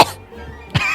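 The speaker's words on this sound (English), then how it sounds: "coughs to cover up your hesitation." A single short cough at the start, then a brief throat-clearing burst near the end, with quiet background between.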